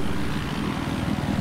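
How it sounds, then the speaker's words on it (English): Helicopter rotor and engine drone from the video game Battlefield 4, a dense, continuous low thrumming chop that stays loud and steady throughout the brief moment. "Oh, I see the chopper."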